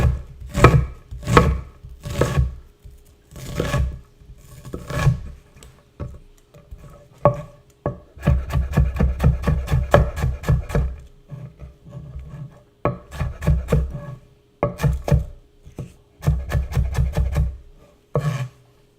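A knife chops old, rubbery onions on a wooden board in a home kitchen, with quick rhythmic bursts of close, crisp strokes separated by short pauses.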